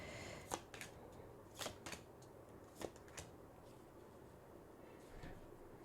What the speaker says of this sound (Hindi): आपको थोड़ा सा पेशेंटली वेट करना पड़ेगा till the time I shuffle the cards